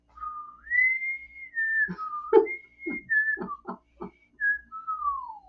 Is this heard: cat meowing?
no